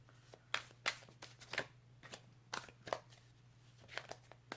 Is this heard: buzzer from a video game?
no